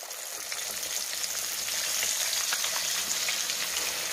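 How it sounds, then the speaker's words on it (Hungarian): Hake sizzling steadily as it fries in hot fat, a dense continuous crackle with fine popping that holds fairly loud and even throughout, with no voices. "Jöhet a következő halunk a zsíradékba, gyönyörű szépen elkezd sülni ő is."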